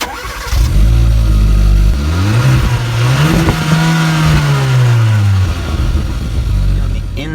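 A 2017 Kia Soul Turbo with dual-tip exhaust starts up loudly, rises into a rev that climbs and falls, then settles back to a steady idle.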